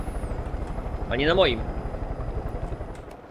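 Helicopter in the Far Cry 5 video game: a low, steady pulsing rotor drone runs throughout, with a person talking over it.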